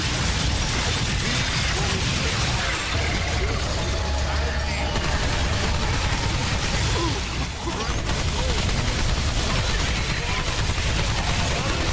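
Dense, continuous gunfire and explosions in the Remnant II video game, loud and relentless without pause, with a voice talking over the shooting.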